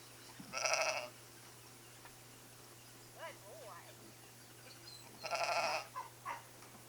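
Two loud bursts of sheep bleating, a few seconds apart, with quieter sounds in between and a steady low hum underneath.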